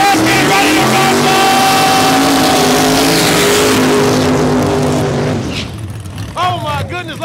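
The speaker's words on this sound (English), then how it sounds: "it's time to go drag racing." Small-block drag racing cars rumble and rev with a loud, steady engine drone for about five seconds before it fades, and voices can be heard over the noise.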